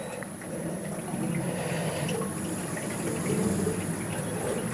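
Thin hydraulic oil pours from a 5-gallon bucket into a tractor's fill hole, making a steady gurgling, splashing trickle that runs for several seconds, close and moderately loud.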